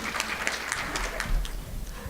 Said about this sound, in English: if we can give a round of applause to Catherine